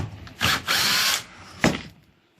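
A power drill backs screws out of a wooden deck railing in two close bursts, the second shorter, loud and near with quiet gaps between.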